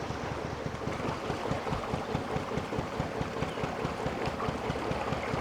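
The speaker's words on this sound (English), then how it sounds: "this wind that's blowing right down the canal and blowing the bow around in the wrong direction." Wind blows straight down a canal, pushing a narrowboat's bow around; a dense, steady rush of close microphone buffeting with a rhythmic low pulsing underneath.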